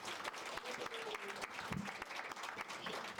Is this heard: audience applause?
yes